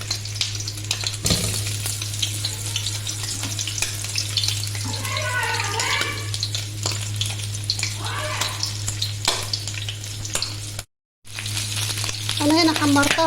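Beef head meat browning in a pot for a tagine: a steady close sizzle with occasional stirring scrapes over a constant low hum, a brief dropout, and someone speaking now and then.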